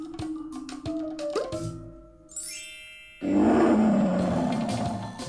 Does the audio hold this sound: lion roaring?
yes